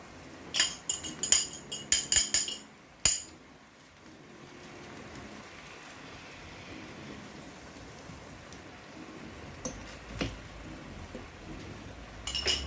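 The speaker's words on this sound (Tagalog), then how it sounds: "Iluto natin yung egg na nilagay natin." An egg fries in a pan for cheesy tortang talong, a soft steady sizzle like light rain, opened by a few loud clinks of a utensil against the pan.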